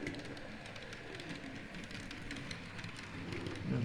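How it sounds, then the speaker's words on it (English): A model railway freight train carrying spare parts for the Ford Motor Company runs along a layout, giving a soft, steady rolling rumble with light rhythmic wheel clicks, quiet and continuous. "This is now pulling another freight train"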